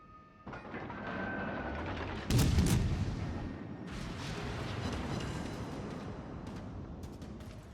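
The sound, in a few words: naval gun salvo in the video game World of Warships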